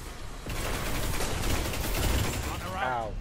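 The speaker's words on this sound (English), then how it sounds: "I hear gunfire." Gunfire rattles through a Destiny Crucible multiplayer match, rapid mechanical bursts and clicks running on under a player's voice, with a brief sweeping sci-fi sound near the end.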